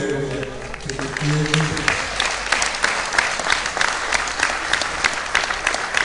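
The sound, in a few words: audience applause for young athletes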